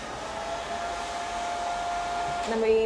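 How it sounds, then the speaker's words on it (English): A hair dryer blows steadily with a constant whirring hum, its pitch shifting slightly near the end. "we can use a hairdryer"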